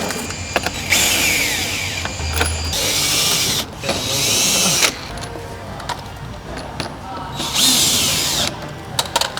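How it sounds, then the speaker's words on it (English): A power drill tightens bolts on a Flow Designs full splitter kit fitted to a 2018-2020 Hyundai i30N hatch. It whirs in three sustained bursts of about a second each, separated by short pauses, close and fairly loud. "then you can go back and tighten them all up"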